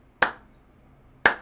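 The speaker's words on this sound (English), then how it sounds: "Slow clap." Two sharp, separate hand claps about a second apart in a quiet courtroom, a slow deliberate clap with nothing else heard between them.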